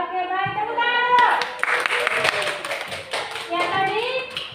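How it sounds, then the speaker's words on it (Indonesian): A primary school class claps together during a lesson on the parts of plants, a burst of lively hand clapping framed by children's and a teacher's voices speaking before and after. "Tepuk tangan dulu."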